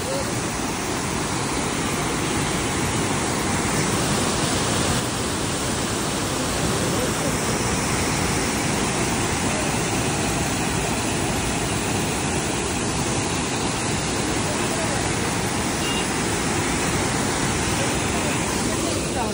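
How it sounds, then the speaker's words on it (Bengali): Borhill Falls (Panthumai) on the India–Bangladesh border in Meghalaya roars as a dense, unbroken rush of falling water, loud and steady throughout. "এটা হচ্ছে তার ভারতীয় নাম বরহিল ফলস, সেই পান্তুমাই ঝর্ণা।"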